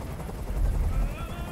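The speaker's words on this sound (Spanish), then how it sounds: "¡Dile a ese helicóptero que se vaya de aquí!" A helicopter hovers close overhead in the video game Detroit: Become Human, a loud, steady low rotor thrum with a dense rumble filling the short stretch.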